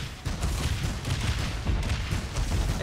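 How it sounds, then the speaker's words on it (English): An extended explosion in the video game Dungeonmans rumbles as a sustained series of heavy, crackling blasts, loud and continuous for several seconds. "Extended explosion."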